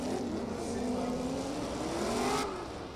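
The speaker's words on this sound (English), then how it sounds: "So supercharged V8." Supercharged LSA V8 in an E46 BMW drift car roars through a sustained high-revving pull at a drift competition, loud and held for most of the moment, with the pitch climbing and then the note dropping off near the end.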